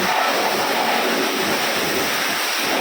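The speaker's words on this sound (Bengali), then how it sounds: "গাড়িতে অনেক ময়লা বৃষ্টি হয়েছে তো রাস্তায় কাদা টাদা ভরে গেছে এখন ওয়াশ করা যাচ্ছে" A car wash sprays a muddy car after rain, giving a continuous loud hiss of water jets that stays steady throughout, with no talking.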